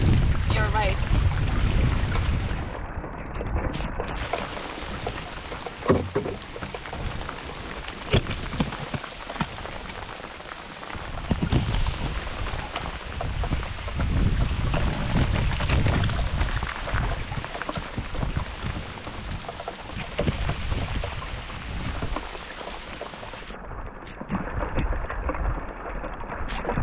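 Steady rain falls during a paddling trip in Kolovesi national park, a dense continuous hiss pattering on rain gear and water, with brief muffled rustles and bumps nearby.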